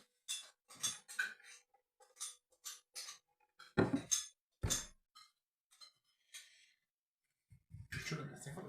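A screw-lid container of cold tea being shaken and mixed gives bursts of sharp clattering and knocking, with a few heavier thuds. The sounds are close, come in short separate bouts and have quiet gaps between them.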